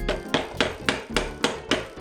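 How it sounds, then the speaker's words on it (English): Hammer tapping during installation of a Shimano XT 12-speed bicycle drivetrain, seven evenly spaced sharp blows, close and clear, with no talking. "Hammer."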